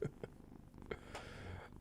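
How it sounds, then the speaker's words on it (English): A cat purrs close to a microphone in a quiet indoor room, a soft low rumble mixed with small bumps and snuffles, faint overall. "How's he not allowed in there when he purrs like this?"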